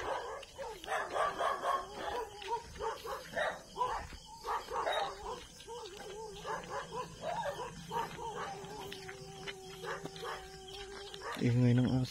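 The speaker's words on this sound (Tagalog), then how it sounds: "Ingay ng aso" Dogs barking at night in a Philippine neighbourhood, repeated close yaps and barks in irregular bursts with some whimpering, people talking faintly underneath and a brief louder sound at the end.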